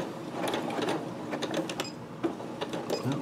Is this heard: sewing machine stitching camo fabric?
yes